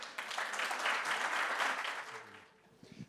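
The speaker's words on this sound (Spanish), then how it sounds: "Un aplauso, por favor." Audience members at a security and organized-crime seminar in Chile give a burst of applause lasting about three seconds, then it tapers off quickly.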